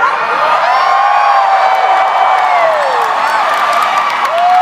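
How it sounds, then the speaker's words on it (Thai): An audience at a stage event cheers loudly, a sustained wash of shouting and whooping voices with high excited calls rising and falling throughout. "ขอเสียงเชียร์ดังๆให้ดิฉันหน่อยได้ไหมคะ"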